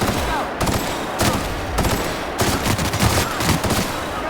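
Rapid gunfire rattles in The Outer Worlds, close, loud bursts of automatic shots in several quick volleys across the whole stretch, with faint voices underneath.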